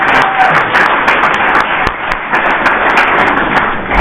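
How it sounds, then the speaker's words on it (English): Sustained audience applause fills a graduation celebration for a college human services certificate program, a dense, steady wash of many hands clapping close and loud with no speech over it. "Give yourself another big round of applause."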